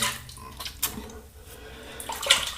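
Running tap water rinses soap from a razor during a wet shave, a steady close splashing wash with brief louder spurts.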